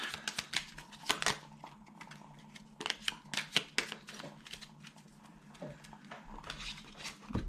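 Tarot cards are handled and drawn from a deck, producing soft papery rustles, flicks and brief riffling taps in quick irregular clusters, close and quiet.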